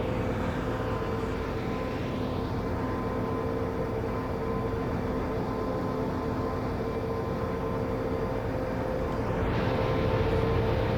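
Train running on the KwaZulu-Natal Corridor route in Train Simulator Classic, a steady low rumble and drone with a constant hum, heard throughout at an even level with no talking.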